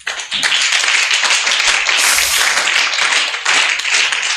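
A church congregation claps and cheers loudly together for several seconds in praise of the Lord, a dense, continuous wash of applause and acclamation with no gaps.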